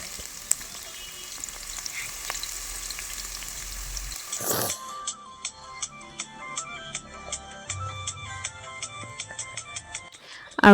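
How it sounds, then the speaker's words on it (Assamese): Chopped onions dropped into hot refined oil for pulao: a sudden burst of sizzling about midway, after which steady frying crackles and pops continue up close. "এতিয়া কাটি থোৱা পিঁয়াজখিনি মই ৰিফাইন গৰম হৈ গ'ল তাতে দি দিছোঁ"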